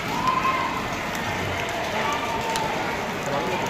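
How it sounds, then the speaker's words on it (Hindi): A steady, soft hiss of light rain falling by a village school building continues throughout, with faint background activity. "हल्की हल्की बारिश पड़ती हुई।"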